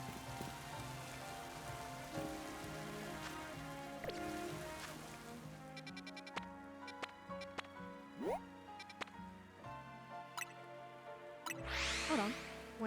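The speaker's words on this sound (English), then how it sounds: "Oh, it's raining." Rain falls in the Pokemon Legends Z-A video game, a soft, quiet patter heard under the game's music, with occasional chimes and sweeping effects.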